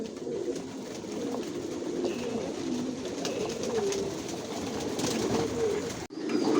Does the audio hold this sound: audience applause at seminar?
no